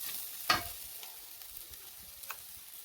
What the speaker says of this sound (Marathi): त्याला थोडं हलवून घेऊया